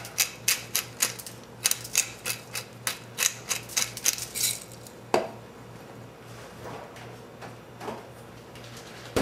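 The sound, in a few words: pepper grinder grinding pepper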